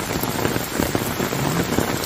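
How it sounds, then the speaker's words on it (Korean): Heavy rain falls hard and continuously in Cheongyang, Korea, a loud, dense, close hiss of drops striking surfaces with no break and no voices. "엄청나게 비가 오고 있네."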